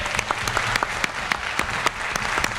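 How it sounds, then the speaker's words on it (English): Audience at an academic panel discussion breaks into a round of applause for the panelists: a dense, steady patter of many hands clapping, fairly close and sustained throughout, with no one speaking over it. "Another round of applause for our panelists."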